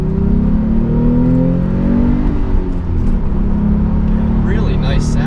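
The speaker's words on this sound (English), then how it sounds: "if you want to put it into the Sport Plus mode, you can hear downshifting then" A 2017 Porsche 911 Carrera S in Sport Plus mode revs and downshifts, its engine note climbing and falling in loud rising sweeps, close and continuous with a brief dip partway through.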